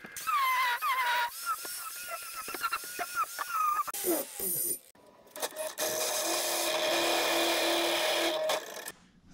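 Metal cage tubing for a Baja Bug being trimmed to fit, with loud harsh grinding or cutting bursts, a brief pause, then a long sustained abrasive whine close by.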